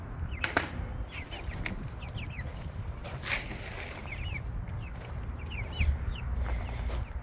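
Young pullets cluck and chirp in a small coop run nested inside a larger run, with repeated short calls over a busy rustling background, fairly near and steady.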